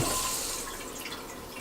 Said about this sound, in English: So first, I'm going to push up on the valve and the bowl will fill with water.